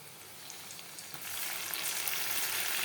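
Onion and spices fry in a hot pan, a soft sizzle that swells louder and brighter partway through as the spices go in, with no talking.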